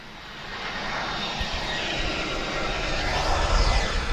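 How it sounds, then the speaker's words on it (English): An EasyJet airliner passes at Lisbon Airport, its jet engine roar a broad, steady rumble that swells gradually and peaks near the end, with no talk over it. "I'll just let EasyJet pass"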